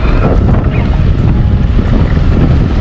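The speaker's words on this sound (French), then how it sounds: "Il y a tellement de vent, ça me traîne tellement." Heavy wind buffets the microphone during a bicycle ride in Charlevoix, in a loud, continuous low rumble with gusty surges, no other sounds coming through.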